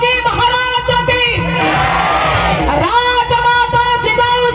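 A crowd at a Marathi gathering in honour of Shivaji Maharaj shouts "jai" together in a loud, sustained swell of many voices that rises and falls, mixed with a strong lead voice.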